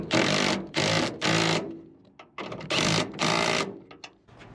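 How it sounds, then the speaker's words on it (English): Power tool tightening bolts on a diesel dually mini truck body panel, with several loud buzzing bursts of driving and short pauses between them, close and alone. "all we have to do is tighten up the bolts"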